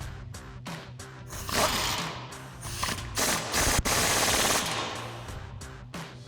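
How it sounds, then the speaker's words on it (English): Impact wrench driving a 21mm socket to tighten a nut on a RAM 2500 leveling kit install, giving repeated loud rattling bursts with short pauses between them. "tighten this back down with our 21mm socket on our impact and our 21mm wrench"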